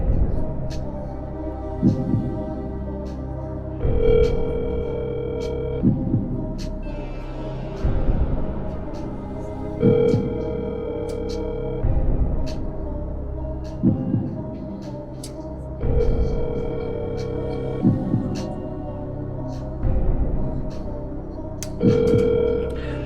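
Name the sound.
telephone call dialing and ringing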